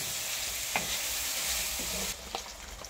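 Spicy chicken curry fries in a pan while being stirred, a dense close sizzle with a few spoon clinks, then the hiss drops off near the end, no talking.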